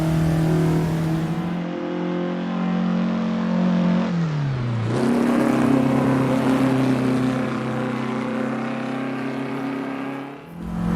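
A race car engine in the Assetto Corsa driving game drones steadily while lapping a circuit, its pitch dropping as the car slows around five seconds, then climbing again under acceleration, with no talking.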